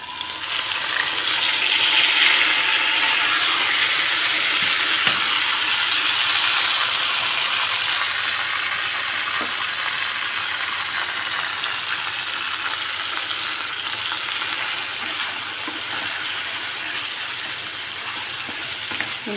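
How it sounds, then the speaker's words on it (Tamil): Marinated prawns frying in hot oil in a pan for prawn thokku, giving a steady, loud sizzling hiss that continues evenly for a long stretch with faint stirring rattles. "இந்த ப்ரானை அதில் சேர்த்து நல்லா ஃப்ரை பண்ணிக்கலாம்."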